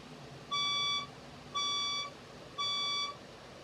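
A building fire alarm sounds in the dark, giving three identical electronic tonal blasts about half a second long with short gaps between them, loud and clear above a quiet room.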